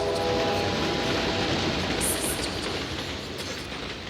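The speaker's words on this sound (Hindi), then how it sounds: "ट्रेन ब्रिज पे से गुजर रही है।" A train rumbling across a railway bridge, heard through a phone line as a loud, continuous rushing roar with faint clatter, steady throughout and slowly easing.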